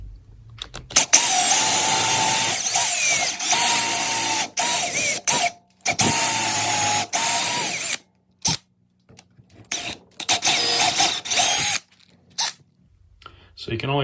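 A handheld power drill bores a hole into a wooden floating-shelf board through a guide jig, whining loudly in several bursts of a few seconds each, separated by short silent pauses.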